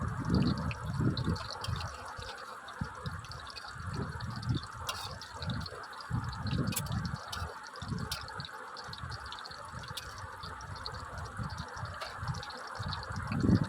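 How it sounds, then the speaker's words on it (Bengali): Fish egg and potato fritters sizzle steadily in hot oil in a pan, a continuous bubbling hiss with soft pops, moderately loud and alone with no talking. "দেখুন, আমি এক এক করে সব বড়াগুলো উল্টিয়ে নিচ্ছি।"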